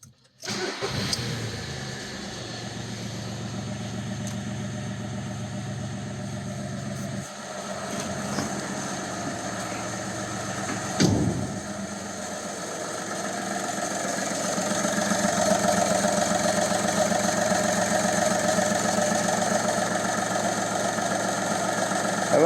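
Skoda 1.4 TDI diesel engine, fresh from a timing belt and water pump replacement, cranks and starts, then idles steadily up close with a clattery running note that rises slightly later on.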